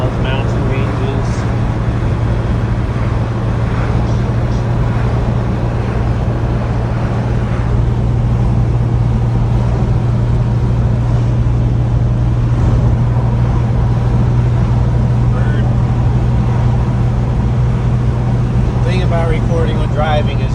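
Duster car driving on a road through mountain ranges, a steady loud interior engine and road drone throughout with a low constant hum, a voice speaking over it.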